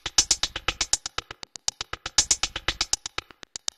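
Electronic hi-hat pattern with two LFOs modulating its decay, rapid sharp ticks whose length and brightness keep shifting, alone and fairly close.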